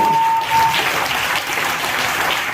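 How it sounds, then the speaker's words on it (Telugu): A church congregation breaks into a burst of applause, a dense wash of many hands clapping together at moderate volume, lasting a couple of seconds with no talk over it. "Yes, clap once for Samuel."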